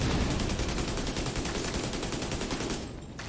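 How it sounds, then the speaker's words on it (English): Sustained rapid automatic gunfire in the video game The Division 2: a dense, steady burst of shots, loud and close, that stops abruptly near the end, with no talking. "I figure we just shoot him."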